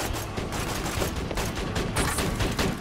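Rapid turret gunfire in Borderlands 2, a dense, steady stream of shots crackling continuously at close range and fairly loud, with no voices over it.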